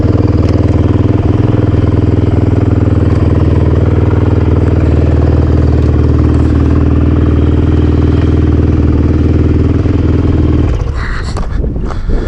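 A Honda CRF450X or Kawasaki KDX200 dirt bike engine runs steadily and loudly up close on a trail ride, holding a constant idle-like drone before a burst of noise near the end.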